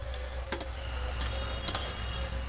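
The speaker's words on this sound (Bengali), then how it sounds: "ঝোল ফুটে গেছে, এবার ঝোলের মধ্যে দিয়ে দিচ্ছি ভেজে রাখা সিম।" Fried flat beans dropped into boiling fish curry gravy in a pan, giving a steady low simmering sizzle with a few soft splashing pops as the pieces go in.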